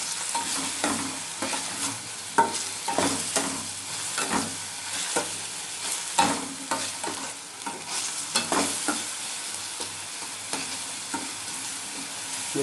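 Chopped garlic frying in a pan for cheese croquettes, a spoon stirring it with repeated scraping clicks over a steady sizzle, close and with no voices.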